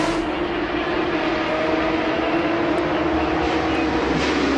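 Onboard a Porsche or Ferrari GT race car at Road Atlanta during an International GT race, a loud, steady engine roar holds at high revs throughout, close and continuous with no talk.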